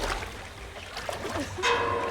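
The red vomit pickup in the Dead by Daylight game gives a short, bright ping near the end, rising over low, murky game ambience with watery sloshing.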